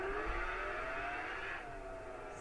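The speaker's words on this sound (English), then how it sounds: "That's how loud the engine goes." A car engine in Gran Turismo 5 holds a steady, loud drone with a rising whine through the first stretch, then settles to a slightly quieter hum. No one speaks over it.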